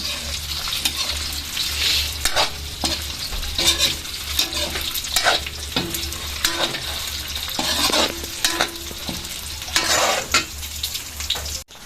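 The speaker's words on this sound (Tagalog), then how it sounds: "Ginisang siomay." Siomay sautés in a pan for misua noodle soup, giving a loud continuous sizzle broken by repeated scraping stirs and clinks of a utensil against the pan.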